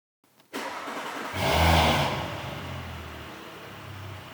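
An Audi S4 B9 upgraded to Stage 3 with a TTE710/810 hybrid turbo fires up in a parking lot. A loud start surge settles into a steady, rumbling idle, with no talk over it.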